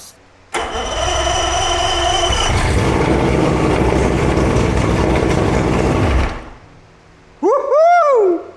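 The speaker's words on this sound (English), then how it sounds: "So this is the first time I'm gonna start the engine." A multi-cylinder engine, freshly repaired for low compression in one cylinder and run on premixed oil with Seafoam after a shot of starter fluid, catches and runs loudly and steadily for several seconds, then cuts off before a voice whoops.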